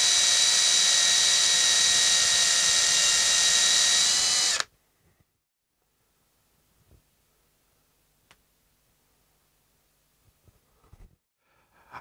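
A power drill bores into a lead car battery terminal, running loud and steady for about four and a half seconds before stopping abruptly, followed by faint scattered clicks and handling noises.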